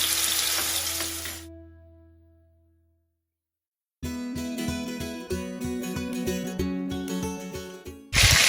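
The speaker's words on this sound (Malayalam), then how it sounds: "ഇതുപോലെ ചിക്കൻ ഓരോ കഷ്ണങ്ങളായിട്ട് ഇട്ടിട്ട് നമുക്ക് ഫ്രൈ ചെയ്തെടുക്കാം." Chicken pieces are laid into melted butter in a pan for chicken tikka masala. A loud hiss fades into silence, then a steady crackling sizzle rises with rhythmic stirring or placing noises and runs on to the end.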